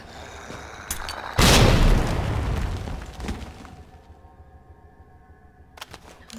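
A grenade detonates during an ambush in Resident Evil 2 Remake, one loud close boom with a rumbling decay over a couple of seconds, then quieter game ambience and a few faint clicks.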